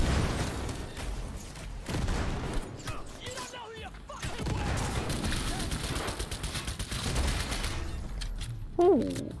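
Grenades going off in Cyberpunk 2077 amid bursts of gunfire, a dense run of loud booms and rattling shots through most of the stretch, with a player's voice cutting in near the end.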